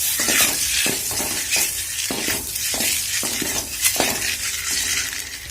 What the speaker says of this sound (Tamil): முட்டை இதில் போட்டு வறுத்துக்கோங்க